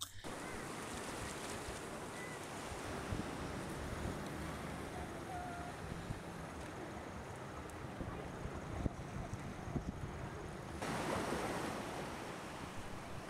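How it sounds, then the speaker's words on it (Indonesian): Rough sea surf breaking against a breakwater where anglers fish in the late afternoon, a continuous distant roar of waves with wind buffeting the microphone, swelling louder near the end. "ke arah deburan ombak yang menggila"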